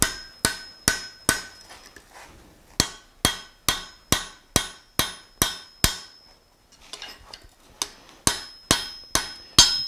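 A blacksmith hammers hot metal against an anvil while forging a tool rack, giving a steady series of sharp, ringing strikes at close range, with a brief pause midway before the rhythmic blows resume.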